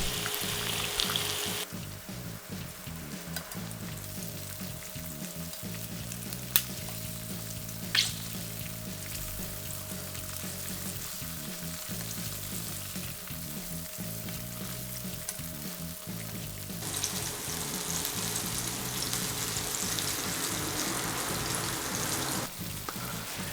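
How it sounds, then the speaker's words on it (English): Chicken wings for Nagoya-style tebasaki deep frying in hot oil, a steady close crackling sizzle that continues without pause, with no talking. "Increase the heat to 190 degrees in Celsius, which is 375 degrees in Fahrenheit, and fry for 1 minute on each side"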